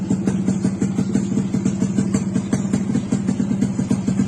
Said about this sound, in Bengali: গাড়ির আওয়াজ শুনলেই বুঝবেন